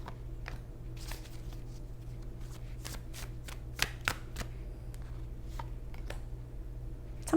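Tarot cards shuffled by hand up close, a run of quick crisp riffling flicks and soft slaps over a low steady hum, with no one speaking.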